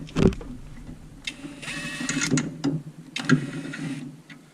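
Impact wrench snugging clutch pressure plate bolts on a 4th gen Camaro with a 3.8L V6, giving several short, close bursts of whirring rattle separated by brief pauses.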